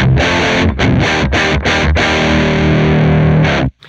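A Frost Giant Electronics distortion pedal with its presence control at minimum drives a loud, saturated guitar riff of chopped chords with brief gaps, ending in a sudden stop; no talking.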